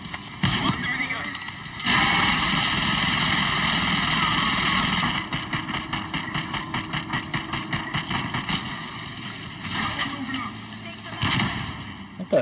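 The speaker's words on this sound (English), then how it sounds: "Watch the minigun." Minigun fire in the video game Call of Duty Black Ops 6, a dense, loud sustained roar of rapid shots with rhythmic bursts and an aircraft engine drone underneath, with voices talking over parts of it.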